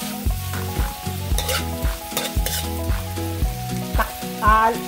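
Chopped tomatoes cook in a pan while a spatula stirs them, making repeated scraping strokes and a soft sizzle beneath prominent background music with a steady melodic pattern.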